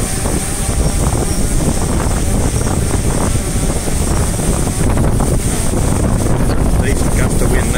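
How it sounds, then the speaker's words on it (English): Outdoor wind gusting during a hover stability test of FIMI X8, Autel Evo and DJI P4 Pro drones: loud, steady wind buffeting rumbles against the microphone throughout. "Decent gust of wind there."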